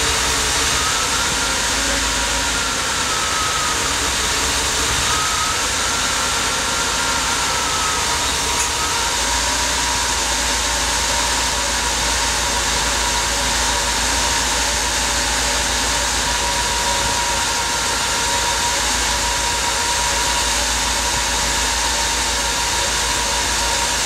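A Mercedes KE-Jetronic V8 runs at a steady idle just after starting, its even, continuous engine drone carrying throughout with no talk.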